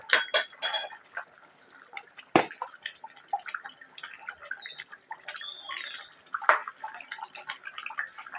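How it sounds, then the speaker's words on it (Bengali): A mixture of rose water, kewra water and sweet attar is poured into a pot of biryani, giving short splashes and liquid trickles with a few bright clinks of a container against the pot. "এর ভিতরে দিয়ে দেব গোলাপ জল, কেওড়া জল আর মিঠা আতর একসঙ্গে মিশানো"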